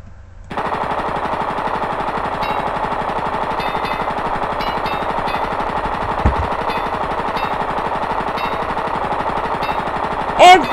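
Sustained rapid machine gun fire from an unlimited-ammo weapon in the video game Blood and Bacon, a dense continuous rattle that runs loud and steady for about ten seconds, with a sharper burst near the end.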